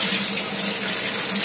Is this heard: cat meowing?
no